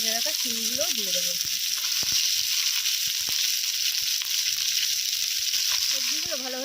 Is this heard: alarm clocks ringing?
no